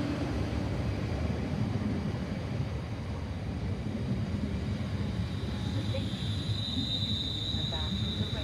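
A British Rail Class 350 electric passenger train arrives at Northampton platform 1, rumbling steadily with a faint high whine above the low roar, continuous throughout, no clear voices.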